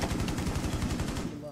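Rapid automatic gunfire in Rainbow Six Siege, a fast, loud, evenly spaced burst of shots that fills the whole moment and tails off at the end.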